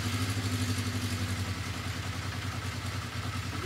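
A 1980 Honda CB650 Custom motorcycle engine runs at idle with an intake air leak. The pulsing rumble is close and steady, with light mechanical clatter and no talk over it.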